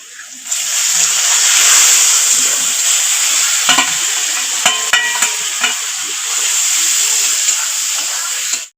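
Masala being sautéed in a pan with salt, chopped tomato, turmeric, chilli powder and slit green chillies, a steady close sizzle and hiss with a few sharp stirring clinks near the middle, no talking.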